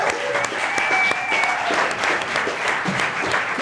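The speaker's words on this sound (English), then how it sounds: "make some noise, round of applause" An audience at a monologue slam breaks into loud, sustained applause and cheering for the next performer, dense clapping filling the room throughout, with a whistle or shout rising over it near the start.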